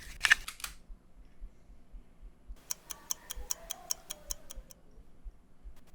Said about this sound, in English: This is a normal clockwise sound effect to give a sound of the movement.